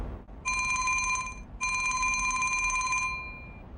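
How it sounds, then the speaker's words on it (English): A telephone rings with two bright electronic bursts, close and clear, each lasting about a second and separated by a short pause, alone without talk. "Jerry received an unexpected phone call."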